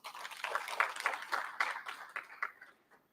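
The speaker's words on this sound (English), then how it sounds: "Can you give her a round of clap?" Brief applause from an audience at a scientific presentation on malaria, a few seconds of scattered clapping that swells and then tapers off into quiet.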